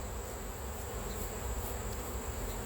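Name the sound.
honey bees buzzing on a hive frame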